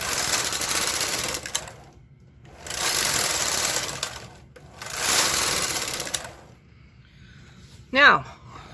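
A domestic knitting machine carriage is pushed across the needle bed in three long rasping passes separated by short pauses, close and clear, with a brief squeak near the end.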